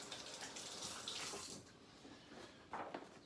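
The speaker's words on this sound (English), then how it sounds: "I'm gonna rinse my hand off. I was just handling raw meat, so I'm washing my hands." A kitchen tap runs faintly and steadily while hands are rinsed after handling raw beef, the water splashing softly with a brief louder burst near the end.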